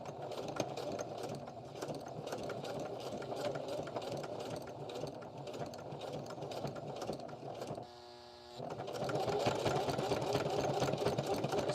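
Sewing machine stitching slowly through a thick ALICE pack strap, a steady close mechanical chugging hum that pauses briefly midway and then resumes slightly louder.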